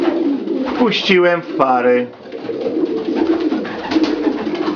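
Pigeons coo nearby in soft, throaty rolling calls, overlapping with a person speaking briefly.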